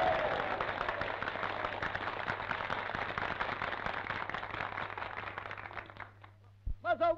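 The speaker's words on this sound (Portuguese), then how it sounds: "Lá está ele, palmas!" Dense, sustained applause from a crowd greeting a newspaper editor, steady for about six seconds before thinning into scattered claps, with a brief voice at the end.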